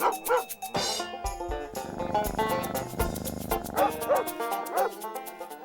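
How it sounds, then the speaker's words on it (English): A four-month-old purebred miniature poodle puppy yips and whimpers in a run of short, high barks with whiny cries between them, close and fairly loud, with music-like tonal sound running underneath. "She's a purebred miniature poodle."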